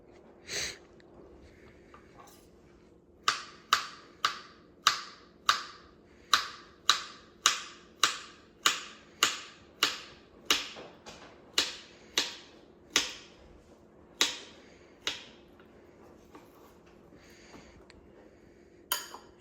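A knife slices bananas on a cutting board for a fruit salad, a run of about twenty crisp, evenly spaced chops that land close and clear against a quiet background.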